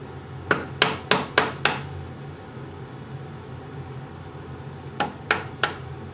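Light mallet taps on a wood chisel while cutting dovetails for a box: five quick, crisp knocks in a steady row, a pause, then three more, close and clear over a quiet room.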